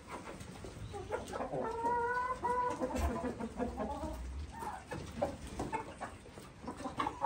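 Chickens and turkeys cluck and squabble on a farm, a busy run of close, overlapping bird calls with a few sharper bursts.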